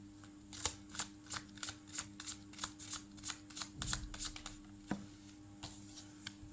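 Tarot cards shuffled by hand, a quick regular run of crisp riffling snaps and flutters, close and fairly quiet, with a low steady hum beneath and no talk.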